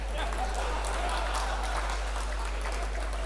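A hall audience at a Maheshwari Mahasabha gathering in Maharashtra claps for district presidents, producing a dense, steady wash of applause at even loudness throughout with a low hum underneath.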